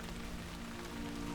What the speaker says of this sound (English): nobody's happy to see the rain